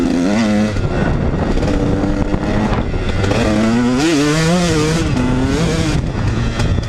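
A mud-caked KTM 150 dirt bike engine revs hard and close, its two-stroke note climbing and dropping in rapid wavering surges and running a little rough, with no voices.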